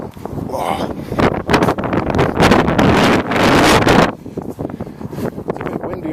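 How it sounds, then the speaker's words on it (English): Wind buffets a microphone on a hilltop in a nature park, loud gusts swelling and dropping in rough bursts over several seconds, close and roaring without speech. "It's a bit windy up here"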